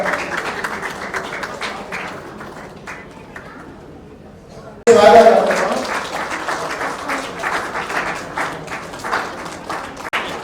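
Wedding guests break into a burst of applause after a quieter spell of talk, the clapping dense and fairly close, with a voice speaking over it.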